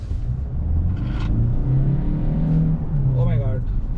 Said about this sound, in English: the engine noise is very high on high rev bands.